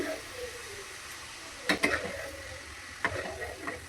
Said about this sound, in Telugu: స్పైసీ తగ్గట్టు ఎండుమిర్చిని వేసుకొని ఫ్రై చేసుకోవాలి.